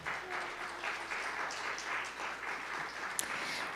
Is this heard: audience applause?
yes